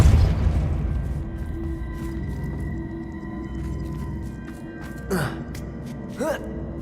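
A spell cast in Hogwarts Legacy: a deep booming rumble with a layered magical roar, then two short whooshing sweeps that rise and fall near the end.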